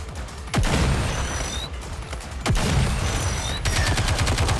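Video game gunfire in Goddess of Victory: Nikke, loud dense automatic bursts rattling continuously with a few sharp heavier shots and brief mechanical reload clicks, close and alone.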